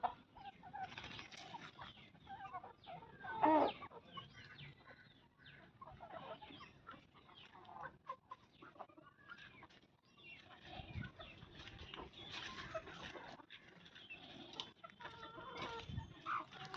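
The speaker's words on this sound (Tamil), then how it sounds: "என்னுடைய கோழிகளை பாருங்கள் நண்பர்களே" Backyard chickens cluck and murmur at close range, with short bursts of clucking, one louder squawk early on and occasional wing flaps, no talking over them.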